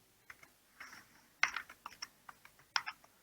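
Light, uneven keystrokes on a computer keyboard at a Windows command prompt, a short run of soft clicks with a few sharper taps, close and quiet with no speech.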